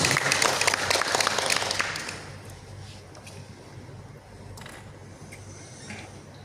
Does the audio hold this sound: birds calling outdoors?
no